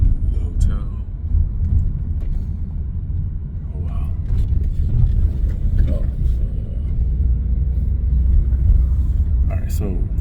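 Car ride from the airport through Bangkok, a steady low road rumble and engine hum inside the vehicle, with a few faint clicks and a voice speaking briefly over it.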